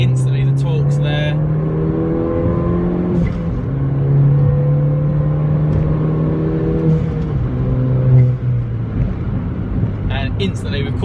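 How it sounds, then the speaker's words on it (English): A Ford Fiesta ST accelerates hard in third gear on a twisty road, its engine note climbing steadily and loud throughout, with road and wind noise around it. "drop it down a gear, drop it into 3rd, get your foot down, instantly the torque's there"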